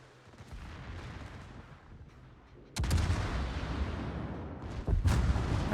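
Naval gunfire in World of Warships during a WoWS Classic tournament match, with deep rumbling booms that swell suddenly near the middle and again near the end, with no talk over them.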